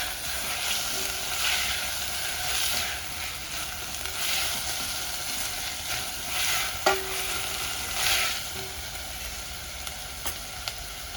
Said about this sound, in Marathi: ही भाजी चांगली परतली गेली आहे